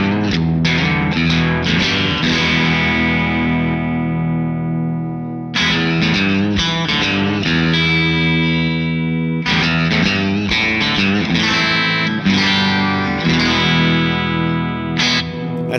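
Electric guitar played through a Two Notes Torpedo with a G12M speaker preset on an open-back cabinet, loud distorted chords and riffs ringing with effects and reverb, in three bursts separated by short decays.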